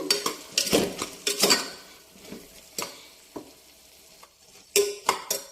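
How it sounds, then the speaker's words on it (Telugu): Onions, green chillies and tomatoes fry in a pan for tomato rice, with a spoon stirring and scraping in irregular bursts over a soft, steady sizzle, close by and with no talking. "టమాటా రైస్కి ఉల్లిపాయలు పచ్చిమిర్చి టమాటీ అలాగే కొంచెం మెల్లిమేకలు వేసి వేపుకుంటున్నాను"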